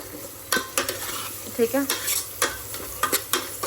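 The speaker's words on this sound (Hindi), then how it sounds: "प्याज को हमने ब्राउन करना है" Onions browning in a pan over low heat, a steady sizzle broken by several sharp stirring scrapes and clinks, close by; a voice speaks briefly.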